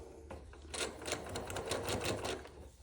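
A sewing machine stitching quilt binding, a soft rapid mechanical whirring and clatter that starts after a short pause and runs steadily, faint and close, with no speech.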